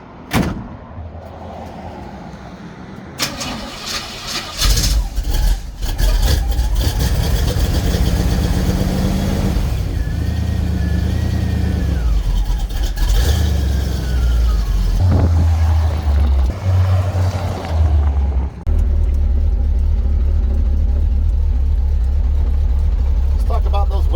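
A 1936 Oldsmobile engine runs steadily while the car drives, a loud continuous low rumble with shifting revs and occasional bumps, heard beneath people talking inside the car.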